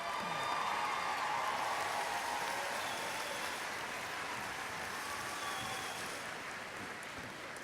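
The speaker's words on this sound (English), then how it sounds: "a round of applause for the baccalaureate graduates from the College of Education" A large audience applauds graduates at a university commencement ceremony, broad steady clapping echoing through a big hall, loudest at the start and gradually thinning toward the end.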